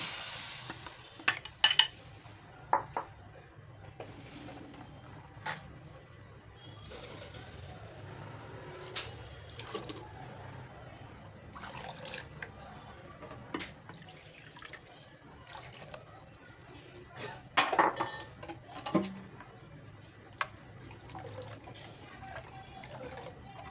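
Ground spice paste and buttermilk going into a pot of kadhi, with quiet stirring, liquid sloshing and a few sharp clinks of a spoon against the pot, close and fairly soft.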